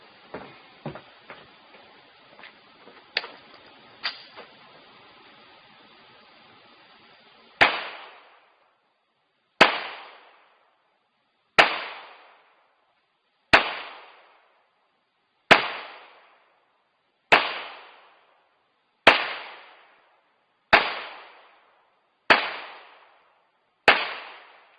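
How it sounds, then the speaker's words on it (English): A pistol fired from the hip at a shooting range, ten sharp gunshots evenly spaced about two seconds apart, loud and close, after a stretch of quiet handling clicks. "we're just going to shoot from the hip"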